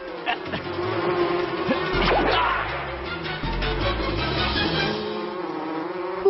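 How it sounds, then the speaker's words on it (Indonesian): Cartoon bee buzzing loudly as it chases someone, a busy whirring drone with crashing and smacking effects mixed in, steady throughout with no talk. "Lebah itu mengejarnya."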